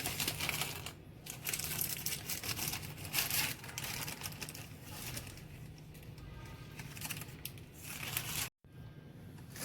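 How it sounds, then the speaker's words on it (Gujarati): Butter paper is peeled off a freshly baked homemade sponge cake, making a soft, steady crinkling and rustling close by that breaks off briefly near the end. "હવે આપણે બટર પેપરને હટાવી લઈશું"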